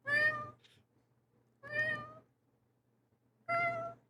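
Three loud, drawn-out cat meows ring out in a slow, evenly spaced sequence with short silences between, played as a stream alert sound, harsh and wailing in tone.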